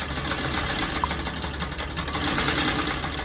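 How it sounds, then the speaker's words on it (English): A vintage 1939 Singer sewing machine runs steadily while sewing fabric masks, its continuous mechanical whir and rapid clatter close and loud throughout, with no pauses. "back at her trusty Singer sewing machine she bought a little while ago"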